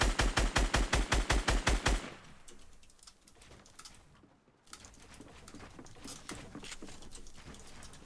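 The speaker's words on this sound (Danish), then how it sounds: "Det var shotgun fighten." Rapid gunfire from a shotgun fight in the video game Fortnite: a fast, regular burst of about ten loud shots, then a busier stretch of scattered, quieter pops and clatter.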